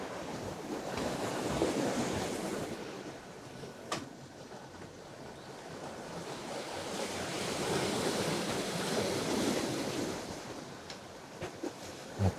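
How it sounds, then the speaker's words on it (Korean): Sea waves washing over round pebbles on a Korean southeastern coastal beach, a steady rushing surf that swells and recedes in slow surges, with wind buffeting the microphone and a few sharp clicks. "파도가 둥근 몽돌에 붙여서 아주 맑은 소리가 들리네요"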